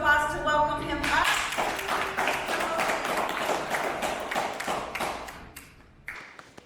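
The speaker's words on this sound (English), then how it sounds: "We're going to give a little round of applause to welcome him up." Audience applause breaking out to welcome a presenter on stage at a talk, a dense steady spread of clapping that holds for several seconds before thinning out toward the end.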